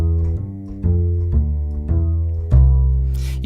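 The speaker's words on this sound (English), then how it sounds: "So, as well as the basic sound, which sounds like this," A sampled upright bass from the Amplsound plugin plays a short line of plucked, sustained low notes, about six in all, each with a clear attack and rounded boom, ending with a brief noisy scrape.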